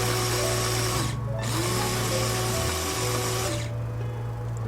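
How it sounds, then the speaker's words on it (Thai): An electric blender grinds chili peppers coarsely with a loud, steady motor whine whose pitch dips and shifts as the blades work through the load. No one speaks. "ปั่นพริก ไม่ไม่ไม่ให้ละเอียดมากคือเอาให้มันหยาบ"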